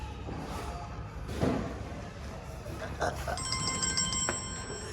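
A telephone rings with bright repeated electronic tones toward the end, over a low background hum and a few soft thuds.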